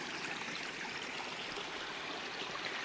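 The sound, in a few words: stream flowing in a gully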